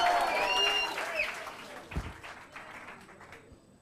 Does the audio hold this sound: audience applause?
yes